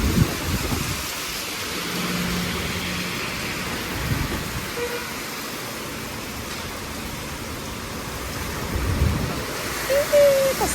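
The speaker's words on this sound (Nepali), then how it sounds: "यस्तो ठुलो पानी परेको" Heavy rain with gusting wind in Pokhara makes a steady broadband hiss throughout, swelling louder near the end, with brief faint sounds rising over the wash.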